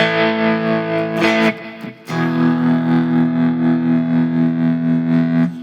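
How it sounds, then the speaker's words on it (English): A distorted electric guitar, an Ena Nova Go Sonic smart guitar with a tremolo effect, holds a gritty chord, breaks briefly for a quick strum, then sustains again with a gently pulsing, wavering volume. "this is like got a little tremolo sort of effect to it."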